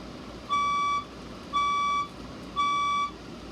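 A fire alarm speaker strobe gives three evenly spaced, steady electronic tone bursts about half a second long, clear over faint background hum.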